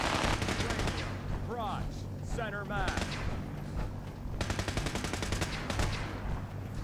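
Sustained automatic gunfire at a shooting range in Fallout 4, heavy rattling bursts with a brief lull in the middle where someone speaks over quieter shots, then the firing surges back loud and continuous.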